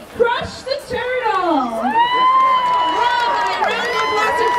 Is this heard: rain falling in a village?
no